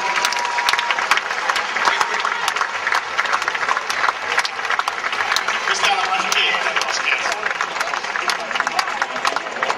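Dense, sustained crowd applause at an outdoor demonstration, loud and steady with many hands clapping throughout, no talk over it.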